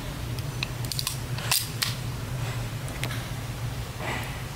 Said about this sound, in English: Go ahead and pull the slide back real quick for you guys.